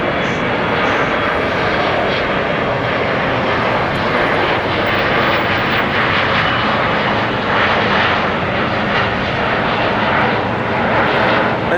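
A large airliner taxies at LAX, its jet engines producing a loud, steady, broadband roar that holds constant throughout without any talking.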